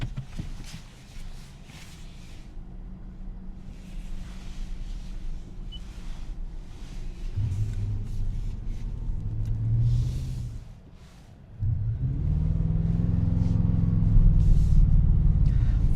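A 2025 Toyota Tacoma TRD Pro pickup driving on the road, heard from inside as a steady low engine and road rumble that swells with acceleration, dips briefly, then returns louder and sustained.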